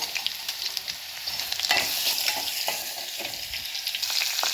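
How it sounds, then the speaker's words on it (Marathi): Cumin seeds crackle in hot oil as crushed garlic goes in for a drumstick curry, a steady close sizzle with scattered pops and stirring scrapes, no voices. "तेल जास्त गरम झालं म्हणून मी गॅस बंद केलेला छान असे आपले जिरे तडतडलेले आहेत"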